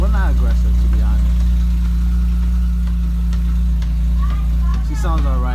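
A car engine idles while warming up, with a steady low rumble close by, while a person talks briefly over it.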